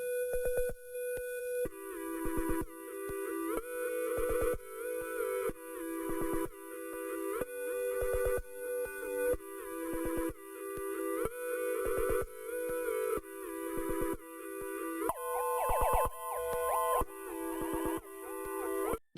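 Lo-fi synth melody raised an octave and processed with halftime Gross Beat, a steady sequence of repeating chopped notes with a warbly stutter, loud and continuous with no voices.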